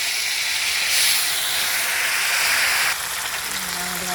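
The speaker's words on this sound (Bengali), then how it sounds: "আমুদি মাছ ভাজা বসিয়েছি" Amudi fish frying in hot oil, a steady loud hiss and sizzle that holds for several seconds and eases slightly near the end, with no voices.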